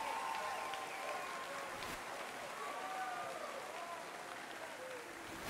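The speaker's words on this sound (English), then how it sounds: "Please, another round of applause to our newest inductee into the Hall of Fame, Mrs. Kathy Ross Johnson" A gym crowd applauds a new Hall of Fame inductee during a Shawnee Mission Northwest versus Shawnee Mission East boys basketball event, a steady, fairly faint wash of clapping with scattered voices and cheers mixed in throughout.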